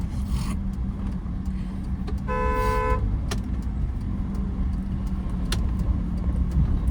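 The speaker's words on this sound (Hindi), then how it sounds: "लॉन्ग हॉर्न प्रेस करो।" A car horn gives one sustained honk, about a second long, over steady engine and road rumble as a car is driven slowly through narrow streets during a beginner driving lesson.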